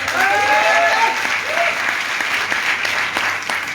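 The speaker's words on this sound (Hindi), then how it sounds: "एक बार उनके लिए जोरदार तालियां" Loud, dense applause from an audience at a speech event in Rudrapur, steady throughout with a few faint voices and whistle-like tones mixed in near the start.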